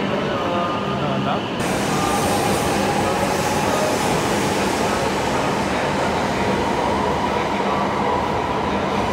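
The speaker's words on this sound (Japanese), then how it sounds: "郡山まで各駅停車のやまびこ64号の今日はね、見送りまして" A Tohoku Shinkansen Yamabiko train pulls out of Morioka Station with a loud, sustained roar and rising rumble, a sharp onset early on, then steady rolling noise close by.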